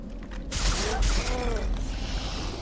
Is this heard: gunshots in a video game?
yes